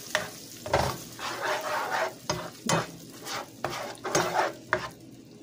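Food sautéing in a pan while being stirred, with a soft continuous sizzle broken by repeated scraping and clinking strokes of a utensil at an uneven rhythm, close by and without talk.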